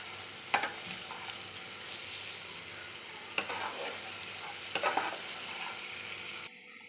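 Masala frying in oil in a pan for an egg curry, a constant loud hiss of sizzling with a few sharp clatters of stirring scattered through, close by and without speech.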